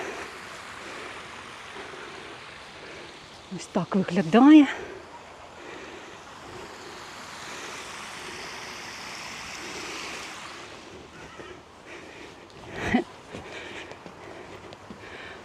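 Water spilling over small waterfalls in a winter arboretum park in Odesa, a soft continuous rushing murmur in the background, with someone speaking briefly and a few louder bumps.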